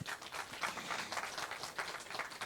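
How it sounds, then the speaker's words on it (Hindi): An audience at a Vishwa Dharma Samvad gathering breaks into steady, dense applause, with many hands clapping at once at moderate volume throughout. "एक बार आप सब अपने लिए ज़ोरदार तालियां बजाएं"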